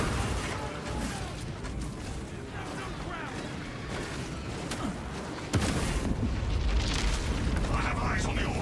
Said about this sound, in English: How many grenades is too many grenades?